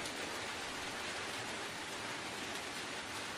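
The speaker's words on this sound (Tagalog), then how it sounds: "Umuulan, guys, oh. Oh, ulan sa probinsya." Steady rain falling in the countryside, a dense, even hiss at moderate level with no distinct drops standing out, heard alone without voices.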